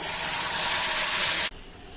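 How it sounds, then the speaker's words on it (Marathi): Water streams steadily into a bowl of freshly ground urad dal batter with a loud, hissing pour that stops abruptly near the end, leaving only quiet room tone. "आवश्यकतेनुसार पाणी घालूया"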